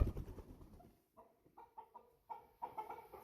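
American Bresse cockerels give several short, separate clucks in a quiet pen, each call brief and moderately close, with pauses between them.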